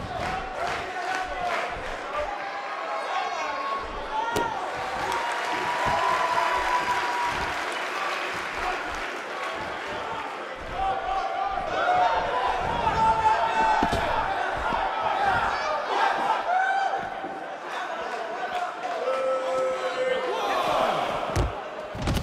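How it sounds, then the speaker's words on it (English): A capacity crowd at a 1985 women's wrestling handicap match cheers and applauds continuously, a loud sustained roar with rising swells, while a commentator talks over it. "This capacity crowd is beside itself."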